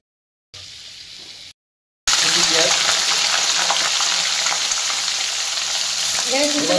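Onions sizzle and fry loudly in hot oil with whole spices for Hyderabadi green chicken, a steady dense crackle that starts after a brief quieter burst and a moment of silence.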